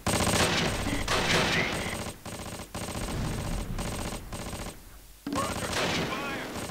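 Heavy sustained gunfire in the WWII game Close Combat: Wacht Am Rhein, dense machine-gun bursts and rifle shots rattling almost continuously for several seconds with one brief near-silent gap before resuming loud.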